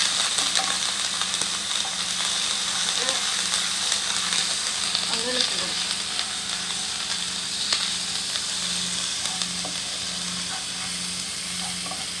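Grated ginger and garlic paste sizzling in hot oil with fennel seeds, a continuous close frying hiss with occasional soft stirring scrapes and pops, no talk over it.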